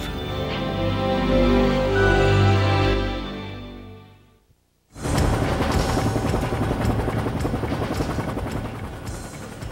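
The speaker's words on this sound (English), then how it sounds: "flying a UH-1 helicopter today for the Air Force" A UH-1 helicopter's rotor thumps loudly overhead, fades briefly to near silence, then returns as a steady, close, dense rotor roar.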